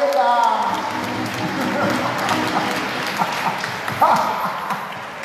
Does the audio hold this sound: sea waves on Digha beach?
no